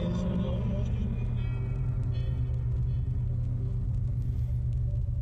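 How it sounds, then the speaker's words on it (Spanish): A car in the video game Slender: The Arrival gives off a loud, continuous low engine rumble that holds steady without fading, under faint scattered background sounds. "Vale, un coche."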